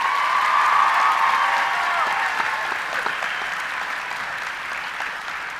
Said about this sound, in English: please join me in a round of applause again for the staff of Middle College High School